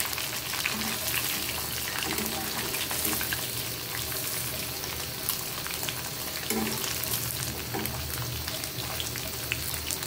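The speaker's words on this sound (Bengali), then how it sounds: "একদম বেশি কড়া করে ভাজবো।" A hilsa fish head deep-fries in oil until crisp, giving a steady, dense sizzle with crackling spatter that carries on unbroken and close for the whole stretch, with no voices over it.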